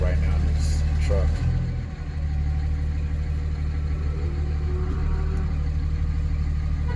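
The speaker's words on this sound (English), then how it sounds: "Got a guy pulling up right now in this truck." A truck engine idles and rumbles close by as it pulls up, a low, steady drone over constant background noise.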